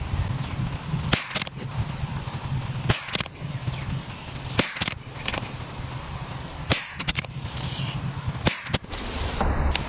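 Five sharp .22LR rifle reports from Remington Golden Bullet ammunition, evenly spaced about two seconds apart at close range over steady outdoor background noise, with no talking.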